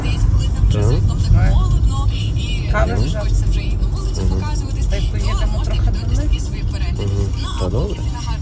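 Steady low road rumble from inside a moving car, with voices talking over the engine and tyre noise throughout.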